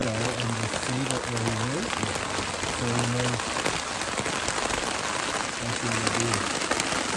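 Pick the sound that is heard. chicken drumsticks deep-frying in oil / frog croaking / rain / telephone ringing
rain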